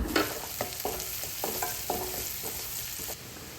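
Chopped garlic and green chillies sautéing in butter for butter garlic chicken, a bright continuous sizzle broken by several distinct spatula scrapes and taps against the pan, close by.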